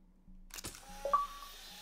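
In the video game It Takes Two, a Polaroid camera's self-timer gives a couple of soft electronic beeps around a sharp shutter click, quiet and close with faint background game ambience.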